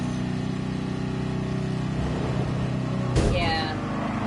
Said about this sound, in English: Listen to you and your engine with all your reviness